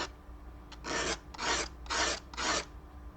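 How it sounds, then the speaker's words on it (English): A scratchboard blade is dragged face down across sandpaper to sharpen its diamond tip, heard as four or five close, steady rasping strokes in an even back-and-forth rhythm, with no voices. "I've just got a piece of sandpaper here, and all I do, I take the blade face down and I drag it against that diamond tip"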